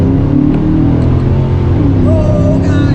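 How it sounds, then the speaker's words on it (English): Engine of a 2010 Camaro SS fitted with a cold air intake, a loud, close, steady low rumble with a rising whine near the end and a voice briefly heard. "installing a cold air intake on my 2010 Camaro SS"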